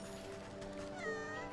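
A single drawn-out cat meow in the video game Wytchwood, heard over a steady bed of game music and ambience.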